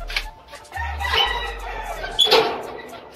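Rooster and chicken calls sound close by, with clucking and a brief squawk over a low, steady background hum.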